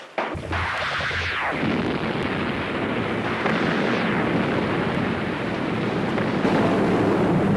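A sci-fi spaceship weapon fires at the Liberator with a sustained, roaring energy blast that rushes in loud, sweeps downward in pitch, and holds as a dense rumbling wash for several seconds.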